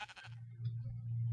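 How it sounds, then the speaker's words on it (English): A sheep in the Minecraft CrazyCraft video game bleats once, a short buzzy, harmonic-rich call at the start, then a low steady hum continues underneath. "There's a sheep."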